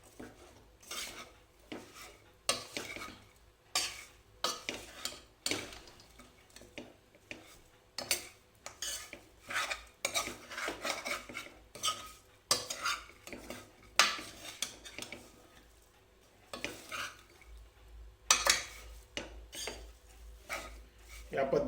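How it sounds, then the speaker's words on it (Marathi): Mutton tossed with red chilli powder, turmeric and salt masala, a spoon scraping and clinking against a metal pot in steady irregular strokes, fairly close, with pauses between bursts and no talking. "लाल तिखट, हळद, मीठ या सगळ्या गोष्टी एकत्र मिक्स झाल्या पाहिजेत व्यवस्थित"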